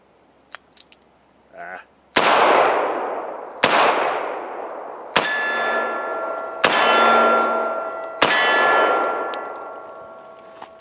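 Taurus Model 85 Ultralight revolver fired double action, five loud sharp shots spaced about a second and a half apart, each with a long ringing decay, after a few faint clicks.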